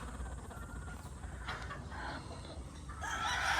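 Pullet chickens of several bloodlines clucking in a pen, soft close clucks and calls over a low steady background, rising slightly toward the end with no talk.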